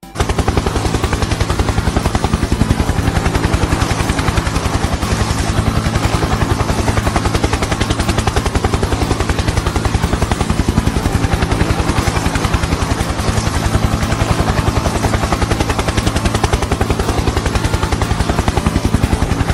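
A helicopter's rotor thumps loudly and steadily for the whole stretch, with a dense, rumbling engine roar and no voices.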